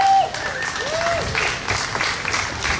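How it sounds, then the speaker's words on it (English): A crowd at a grassroots community gathering gives a short burst of applause, a steady patter of hands at moderate distance, with a brief whistle-like tone at the start and faint voices mixed in. "So that checked the applause sound."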